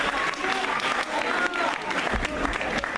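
Crowd at the Sonorama event applauds a DJ with loud, dense clapping close by, a brief burst of cheering and some talk mixed in.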